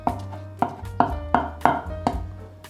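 A knife minces shiitake mushrooms on a cutting board with six or seven crisp, evenly spaced chops about half a second apart, close and clear with no talking.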